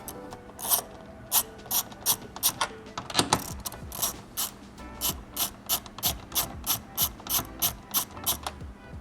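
A ratchet loosens 8 mm taillight bolts on a Scion FR-S / Toyota 86, with a close, rhythmic series of sharp clicking strokes repeating steadily for several seconds.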